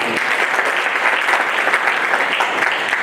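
Steady, loud applause from an audience fills the hall at the closing ceremony of an anti-drug campaign event in Pachmarhi, continuous dense clapping throughout with no break.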